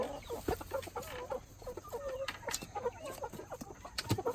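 Barred Rock hens clucking in a coop, a busy run of soft, repeated clucks and short calls from several birds close by, with faint background noise.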